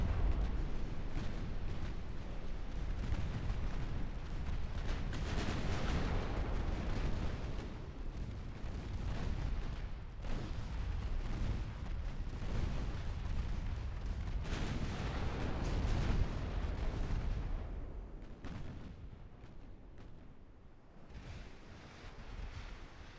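Naval gunfire in the warship game Ultimate Admiral Dreadnoughts: heavy rolling booms and rumbling blasts follow one another continuously, loud and broad, fading somewhat toward the end.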